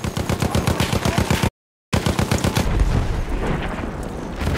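Rapid machine gun fire in the Battlefield 1 Gallipoli multiplayer operation, a loud steady burst of closely spaced shots, a brief gap of silence, then further firing and blasts blending into battle noise.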